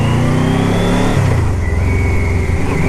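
A 2000 Yamaha Venture LE motorcycle engine revs under throttle, loud and close, its pitch dropping and then climbing again in a steady, unbroken roar.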